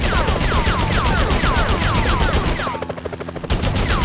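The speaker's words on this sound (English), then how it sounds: "Enough with the shooting already!" Gunfire in a Spider-Man video game: rapid, continuous automatic bursts with repeated descending whistling shots, loud and dense, briefly thinning into scattered pops before resuming.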